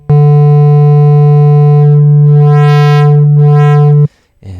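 A sine wave driven into the clipping effect in Ableton Live, a loud steady buzzy tone rich in harmonics for about four seconds, with two sweeping bright swells in the upper range before it cuts off abruptly.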